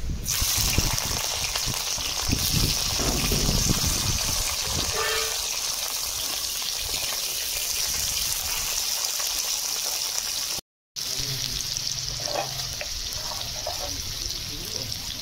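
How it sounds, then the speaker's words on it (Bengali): Chopped capsicum sizzles in hot oil left from frying paneer, a steady crackling hiss, interrupted once by a brief silence before the frying resumes. "পনির ভাজার তেলে ক্যাপসিকাম দিয়ে দেবো।"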